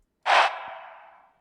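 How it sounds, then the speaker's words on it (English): Single breathy vocal chant sample from a trap sound kit in FL Studio, a short airy burst that trails off into a long reverb tail, heard alone. "a reverb chant."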